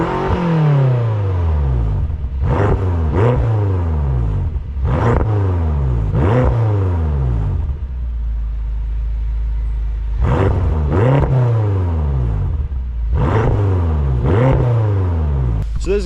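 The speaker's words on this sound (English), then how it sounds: "So there's a couple warm, neutral revs for you." A BMW M6 engine revs repeatedly in neutral while warm, sharp rising bursts in two clusters separated by a steady low idle rumble, close and loud.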